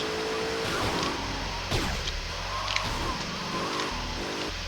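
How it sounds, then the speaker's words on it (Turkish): A car engine in GTA Vice City The Definitive Edition hums and revs steadily, its pitch shifting up and down as it accelerates, with a mechanical synthetic tone. "Hele şu araba sesi beni benden aldı."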